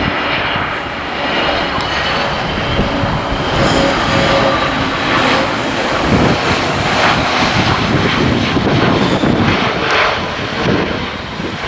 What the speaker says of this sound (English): now it's the A320 CO from SAS.